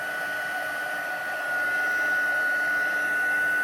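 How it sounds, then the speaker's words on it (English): A heat tool blows a steady, loud whooshing hiss while melting white embossing powder on a paper craft box, holding constant close to the listener with no voices. "I'm going to use my heat tool just to heat that up and set it"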